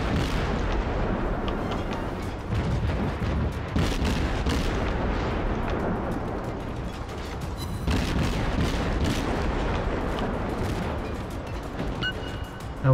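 Warship guns fire a sustained barrage in the naval combat game World of Warships, heavy booming salvos rolling one after another, loud and dense throughout with no pauses and no talk.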